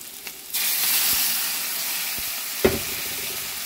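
Ground spice paste drops into a pan of fried potatoes and breaks into a loud, steady sizzle, with a sharp clink of a utensil partway through.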